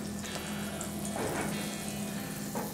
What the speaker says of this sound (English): I'm also gonna throw some butter in there